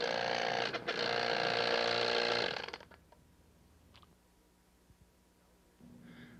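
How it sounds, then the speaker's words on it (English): A vacuum plaster mixer for Kerr Snow White #1 model plaster gives a loud mechanical rattling buzz for about two and a half seconds, then cuts off to a quiet hum, and a softer vibrating drone starts near the end. "we'll disengage the clutch and vibrate to get the material down from the side of the can"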